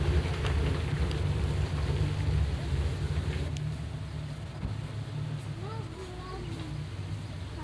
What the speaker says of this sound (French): Mais il pleut, ouais.